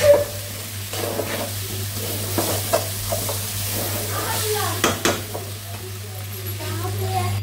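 Rice frying in a pan for khichuri, a soft close sizzle broken by repeated scraping stir strokes, with a low steady hum underneath.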